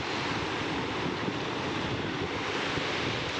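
Rough sea surf at high tide on Pirwadi beach, Uran, roars in a steady, dense wash, with wind buffeting the microphone throughout and no voices.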